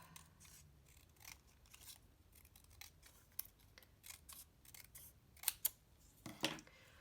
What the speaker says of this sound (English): So let's cut. Again, I'm just going to snip this side off.